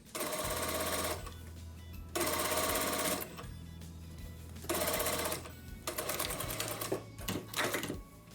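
Sewing machine stitching the sleeve onto a coat, running in several loud, rapid mechanical bursts separated by short pauses, close and with no talk.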